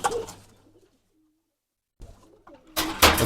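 A Giribaz pigeon hen sitting on eggs coos in short bursts, with a near, soft call at the start, a silent gap, then rustling and louder sounds toward the end.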